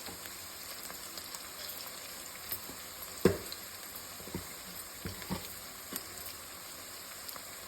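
Ginger garlic paste and a pinch of turmeric fry gently in a pan, giving a low steady sizzle with a steady hiss and scattered soft pops and spatters throughout.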